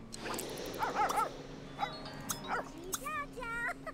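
Dog in The Sims 3 video game barking, yipping and whimpering in short bursts with squeaky whines, moderately close, alongside faint game sounds.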